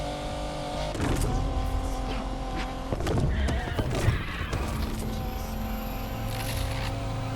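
A custom Mitsubishi Eclipse in the racing game Need for Speed Unbound revs steadily through a continuous engine drone, rising and shifting with brief bursts of tyre and traffic noise during a race.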